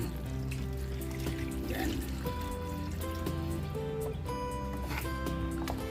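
Water is poured into a pot of seasoned pork ribs for braising, a continuous trickle and splash heard alongside kitchen sounds and a single brief spoken word.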